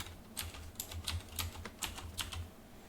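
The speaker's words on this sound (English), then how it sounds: "So right here you would type in your class code" Class code being typed on a computer keyboard: soft, close, irregular key clicks, roughly ten presses in quick bursts, quiet and alone.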